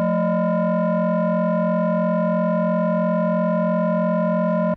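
A steady FM synthesis tone with its modulator set to 397, programmed in Bitwig Studio, sounding as a single loud, buzzy sustained note rich in overtones that holds unchanged for nearly five seconds before cutting off abruptly.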